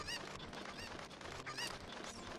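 Cucco chickens in the video game Ocarina of Time squawk and cluck in repeated bursts, loud and busy over a continuous game background with no talk.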